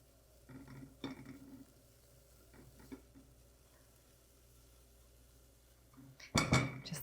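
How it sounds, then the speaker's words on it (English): Grated zucchini cooks briefly in a pan, giving a quiet sizzle with soft stirring scrapes early on, then a louder burst of clattering utensil and pan noise near the end. "we're going to add our grated zucchini. We're gonna cook that just long enough to get a tiny bit more moisture out of it"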